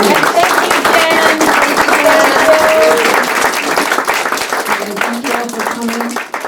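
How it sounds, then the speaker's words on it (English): Enthusiastic audience applause for mentors and curators at a young writers' night in Taos, New Mexico, with steady clapping throughout, some cheering voices mixed in, and the applause thinning slightly toward the end. "let's give a big round of applause to the mentors, curators, and our"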